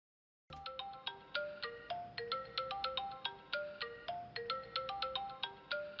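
A mobile phone ringtone starts abruptly and plays a bright, repeating electronic melody of plucked notes, steady and moderately loud, with no voices.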